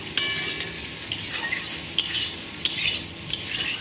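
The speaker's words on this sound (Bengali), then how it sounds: "হলুদ গুঁড়া দিয়ে আমি বেগুনটাকে ভেজে নেব আলুর সাথে" Eggplant and potato frying with turmeric powder in a pan, a continuous sizzle broken by a few sharp clinks and scrapes of a utensil stirring, close and without speech.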